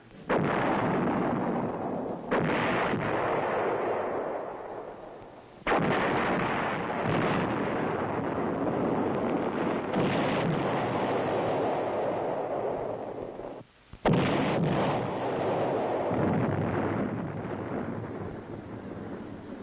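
Military artillery fires on a planned position, with heavy, sustained booming and rumbling blasts rolling one into another, loud and continuous with a windy roar.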